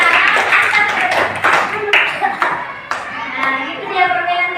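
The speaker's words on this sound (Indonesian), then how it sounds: "Tepuk tangan itu." A group of children clap unevenly, with lively chatter and voices mixed into the applause.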